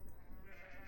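Sheep bleat faintly in the Age of Empires IV strategy game, a short wavering cry set over a low busy game backdrop, quiet and brief.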